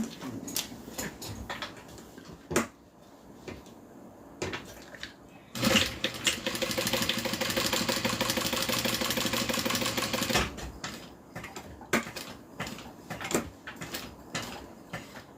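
A sewing machine stitches around the edge of a notebook cover held with double-sided tape, running steadily for about five seconds between scattered quiet clicks and handling noises.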